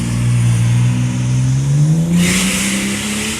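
A Ford XR6 turbo engine with an external rear housing, 45mm wastegate and screamer pipe revs loudly and close up, its deep note climbing steadily before a sharp hiss from the screamer pipe bursts in near the end.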